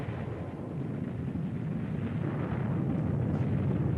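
Trinity atomic bomb test explosion of about 20 kilotons, heard as a sustained, loud, low roaring rumble that stays dense and steady throughout, with no talking.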